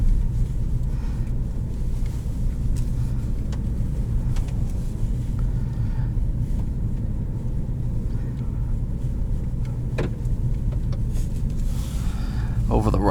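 A 2017 Ford Focus ST rolls over a rough stretch of road, a steady low rumble of tyres and engine filling the cabin with faint knocks and rattles throughout.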